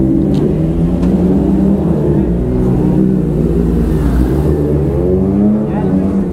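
Several vehicle engines run and rev together at a Gudi Padwa gathering in Girgaon, a loud, continuous rumbling drone with rising and falling revs, voices faintly mixed in.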